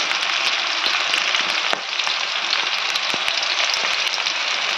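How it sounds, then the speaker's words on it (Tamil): Shallots and green chillies frying in oil with mustard and poppy seeds, a loud, steady, close sizzle with faint crackles and pops running through it. "லைட்டாக எண்ணெய் ஊற்றி கசகசா கடுகு எல்லாம் போட்டு தாளிச்சிட்டு சின்ன வெங்காயம் ஒரு 10, பச்சை மிளகா 2 கீரி போட்டு வதக்கி வைப்போம்."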